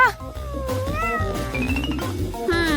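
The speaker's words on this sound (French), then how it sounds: "Mais où est-ce que je vais mettre mon chat?" A cat meows loudly and repeatedly up close, its drawn-out, wavering cries rising and falling over a low background hum, with a final sharp meow at the end.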